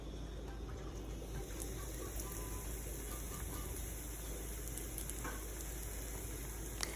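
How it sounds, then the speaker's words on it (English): A quiet, continuous sizzle of breaded pork chops frying in a pan, soft and even, with a few faint crackles and a low background hum. "And now for the sizzle."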